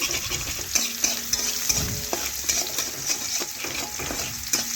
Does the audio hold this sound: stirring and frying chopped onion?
yes